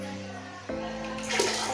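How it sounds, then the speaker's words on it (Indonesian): Water pours steadily into a home fish tank for betta fish, a continuous splashing rush that grows brighter and louder partway through, close by with no talk. "Nah kita lanjut isi airnya lagi."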